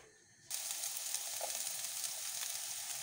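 Chopped onion drops into hot oil, colza or olive, with a sudden loud sizzle that starts after a brief quiet moment and then holds as a steady, bright frying hiss to the end.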